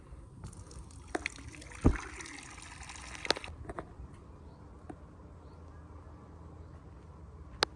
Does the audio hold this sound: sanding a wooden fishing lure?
no